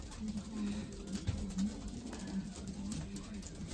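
Young racing pigeons coo softly inside a loft, low repeated throaty calls scattered over a quiet background with faint rustling.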